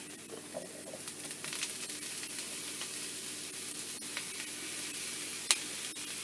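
Pieces of jackfruit hit a hot pan and sizzle steadily, a bright hissing crackle with occasional scrapes of stirring, close and clear with no talking.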